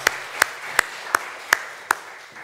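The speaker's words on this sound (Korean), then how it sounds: "우리 성가대 격려 박수하면 좋겠습니다" Slow, evenly spaced claps, about six sharp hits over two seconds, given in a church sanctuary to encourage the choir; fairly close and alone, with no voices.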